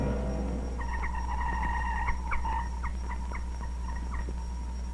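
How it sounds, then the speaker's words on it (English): A communist radio jammer interferes with a Radio Free Europe shortwave broadcast, warbling and chirping tones stacked over a steady low drone and continuing throughout with no speech. "That sound is a communist jammer at work"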